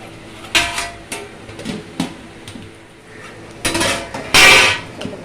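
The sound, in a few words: stirring biryani rice in a pot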